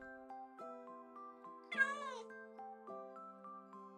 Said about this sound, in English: Aw, kitty.